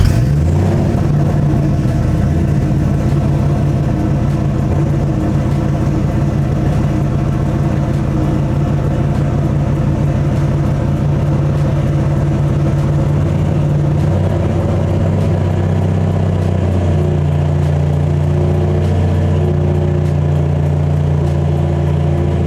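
A hot car engine runs steadily at idle for a long stretch, a loud, close, even mechanical drone with a slight rise in revs partway through.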